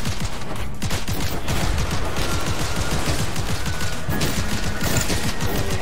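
Dense, continuous bursts of rapid gunfire from the rogue-like shooter game Seraph, loud and close, with shots crackling in quick succession for the whole stretch.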